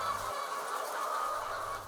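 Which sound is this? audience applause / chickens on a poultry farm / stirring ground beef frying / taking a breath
chickens on a poultry farm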